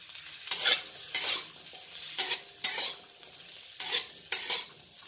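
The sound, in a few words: stir-frying zucchini and carrot in a pan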